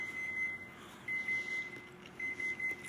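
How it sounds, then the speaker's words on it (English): An alarm emits short, high electronic beeps in three bursts of rapid triplets, steady and fairly clear over a quiet room background with no talking. "Turn that alarm off."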